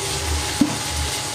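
Onions frying in a pan give a steady, bright sizzle with one short knock of a utensil partway through, close and loud with no voices.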